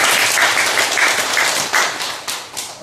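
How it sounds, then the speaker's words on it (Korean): Church congregation clapping in a sanctuary, a loud close wash of hands with brief rhythmic swells, short and fading toward the end. "박수 한번 해주세요"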